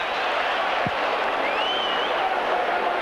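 A huge football crowd of about 40,000 at Footy Park during a 1986 State of Origin match between South Australia and Victoria, a continuous loud roar and murmur filling the stadium, with no distinct applause bursts.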